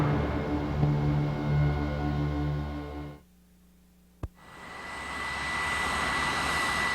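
An A-6 Intruder jet lands on an aircraft carrier with a steady, loud, close engine roar that cuts off abruptly about halfway through, leaving near silence broken by one sharp click before a fainter hiss returns.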